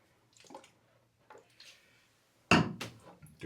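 Water splashes while a straight razor and face are rinsed during a shave, producing a few soft trickles followed by a louder close splash near the end.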